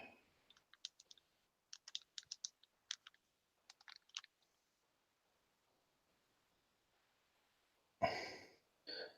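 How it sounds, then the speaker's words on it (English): Scattered clusters of light clicks from computer buttons and a mouse, quiet and close, coming in short bursts separated by silence, followed by a louder broadband rustle near the end. "But you can hear me clicking on buttons and stuff."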